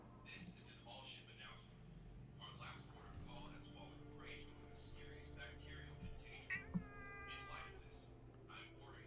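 A house cat meows close to the microphone, several short mewing calls over steady low background hum, with no talk.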